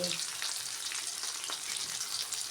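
Fish frying in hot oil, a steady soft crackling sizzle with scattered pops, fairly quiet and close, with no voices.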